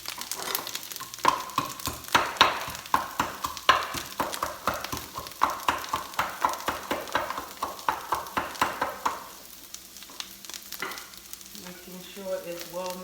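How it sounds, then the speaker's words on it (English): Garlic being mashed in a mortar, a close, regular thudding of the pestle with steady repeated strikes that fade near the end into quieter handling. "Let me mash this. I got my garlic here in the mortero"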